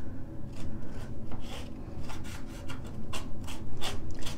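A plastic palette knife spreads textured paste across furniture in repeated scraping, rasping strokes, close and fairly loud in an irregular back-and-forth rhythm, with no talking.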